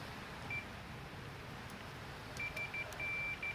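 A multimeter's continuity tester gives a faint steady tone, first briefly and then in several short beeps and one longer one near the end, against a quiet background hum while wiring a car's shifter.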